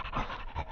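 A dog panting in a radio drama, quick rough breaths repeating in an even rhythm, close and fairly loud, heard alone with no speech.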